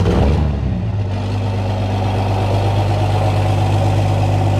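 A diesel truck engine in -6 degree cold, without grid heaters, running at a steady loud, close idle with a deep, constant rumble that barely varies.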